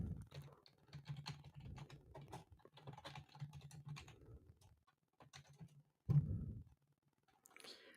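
Quick, light clicking of fingers typing on a computer keyboard, irregular bursts of taps with short pauses, fairly close and quiet, with a voice and a sigh mixed in.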